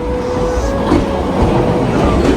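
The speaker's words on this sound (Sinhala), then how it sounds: "මේ ට්‍රේන් එක එනවා" A Ninja-themed ride-on train drawn up to a station makes a loud, steady rumble of wheels on rails, with a faint tonal whine and rhythmic clacking underneath.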